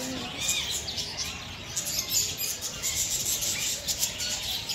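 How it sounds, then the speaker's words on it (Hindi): Parrots screech and chirp in a busy chorus at Dehradun Zoo, shrill calls overlapping continuously with voices murmuring in the background. "काफी प्रकार के तोते हैं यहाँ पे।"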